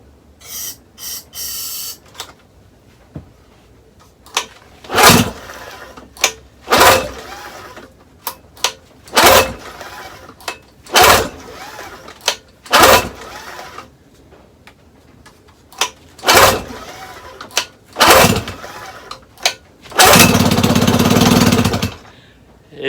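Outboard motor being cranked after starter fluid is sprayed into the carburetor throat, giving a series of short sharp pops and bursts separated by pauses, with a longer sputtering burst near the end.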